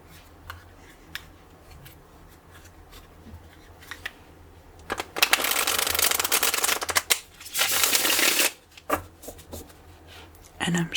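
Tarot cards from the Moon Baby Tarot deck are shuffled in loud riffling bursts close to the mic, between quieter taps and handling sounds, in a soft-spoken setting.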